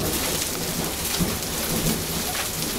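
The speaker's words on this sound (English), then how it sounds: "Look at that freaking hail there." Hailstones as big as golf balls pound down during a storm, a dense, steady roar of impacts close by with a few heavier knocks standing out, and no talk over it.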